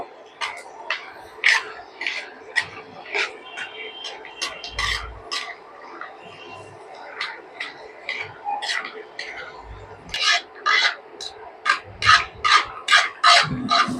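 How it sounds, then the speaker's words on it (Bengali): Peanuts frying in a pan sizzle and crackle in quick irregular bursts, busy close-up spits with brief pauses, while someone talks over them. "বন্ধুরা বাদামগুলোকে লাল লাল করে ভেজে নেব"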